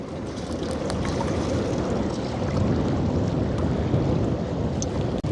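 Strong wind blows outdoors beside a village pond, a loud, continuous low roar and buffeting against the microphone that holds steady throughout, with no voices.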